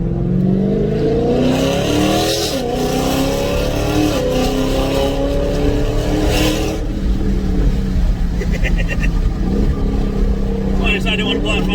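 A Ford EcoBoost Mustang engine revs hard and steadily up through its range, loud and close, with a continuous rising drone that dips briefly before climbing again.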